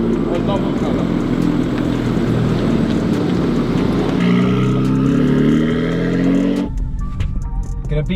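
A modified Ferrari supercar engine roars loud and sustained at a drag strip start line, pitch shifting upward mid-run before cutting off abruptly near the end.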